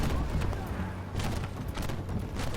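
Tank autocannon fire in the video game Armored Warfare, a dense string of rapid booming shots in overlapping bursts, loud and continuous, with a voice speaking over it.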